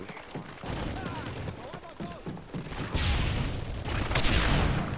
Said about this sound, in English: Oh my god, fucking grenade launcher.